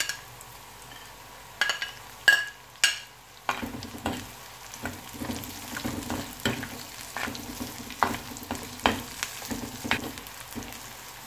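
Sliced onion sizzles and fries in hot oil with coconut chips in a pan, with steady crackling broken by repeated scraping stirs of a spatula, close and fairly loud.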